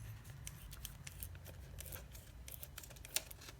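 Scissors cutting down the side of material for a mini arcade monitor bezel, a steady run of small close snips and rustles with one sharper click near the end.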